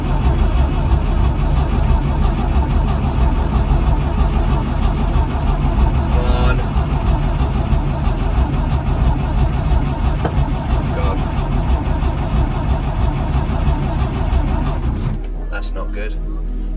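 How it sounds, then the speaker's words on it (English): A vintage van's engine cranks over continuously in a dense, loud mechanical drone without catching, then cuts off abruptly near the end, leaving quieter background; no speech is heard. "Turning it over fine, but it's not igniting."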